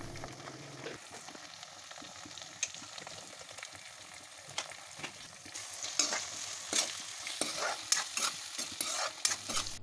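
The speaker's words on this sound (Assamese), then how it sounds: "পুনৰ ভালকৈ লৰাই দিলোঁ।" Fish curry cooking in a pan is stirred with a utensil, giving soft sizzling and frying under repeated scraping and clinking strokes that grow busier and louder toward the end.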